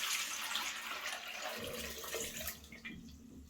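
Sugar water with water kefir grains is poured through a strainer, giving a steady splashing trickle of liquid that thins and breaks into softer drips toward the end, close and alone.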